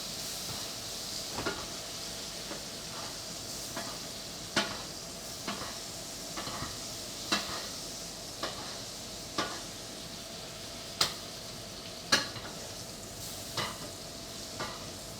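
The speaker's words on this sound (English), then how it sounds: "Grab a spoon, and you want to flick the nappe the butter over" Butter sizzles quietly in a pan on an induction stove as it is spooned over steak, with a faint continuous hiss broken by regular sharp clicks of the spoon against the pan.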